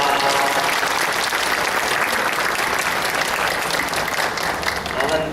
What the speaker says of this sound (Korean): 한번 우리 축복의 환영의 박수 한번 해주시기 바랍니다